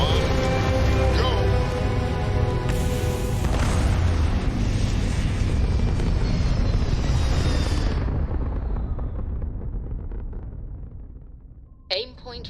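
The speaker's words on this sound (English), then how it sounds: "Ready for takeoff in 3, 2," A spaceship lifts off in the video game Starfield with a loud, sustained roaring thrust that holds steady and then slowly fades. A short mechanical blip comes near the end.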